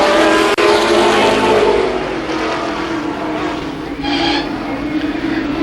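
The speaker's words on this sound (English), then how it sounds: "Blackford wastes little time to the outside of Ron Freebus, and Blackford will lead lap number 8" Race cars lapping at Columbus Motor Speedway during a 1993 race, their engines roaring steadily as the pack passes, with a brief sharp click early on and an announcer talking over the noise.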